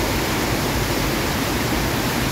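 A dense, constant roar of rushing floodwater in a small creek after sudden heavy rain, loud and unbroken from start to finish with no voices.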